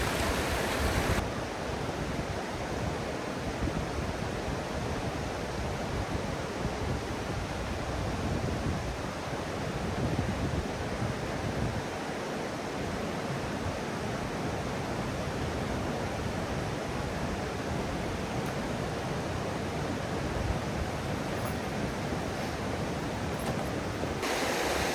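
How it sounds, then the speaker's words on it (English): Rushing rapids at Haystack Falls in Loyalsock State Forest, a steady, full wash of water that runs unbroken and fairly close throughout, with no voices over it. "Some rapids going on over there."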